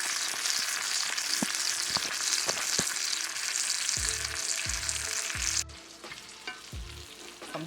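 Steak sizzles in a pan while being basted, a loud steady frying hiss with rhythmic low thumps of the spoon and pan; the sizzle drops noticeably partway through, then continues quieter.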